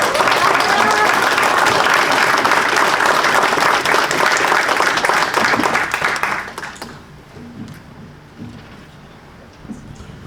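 An indoor crowd at a public hearing on a BP air permit in Whiting, Indiana applauds loudly and steadily for about six seconds, then the clapping fades to scattered murmurs and room noise.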